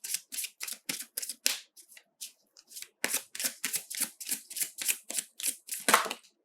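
Tarot cards riffle-shuffled and drawn in a steady run of crisp, close flicks, pausing briefly in the middle before a second quick burst of card snaps.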